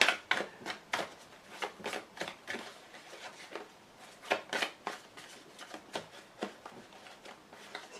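Lenormand fortune-telling cards being shuffled by hand, a close, quiet series of crisp riffling and slapping bursts repeating irregularly throughout with no talk.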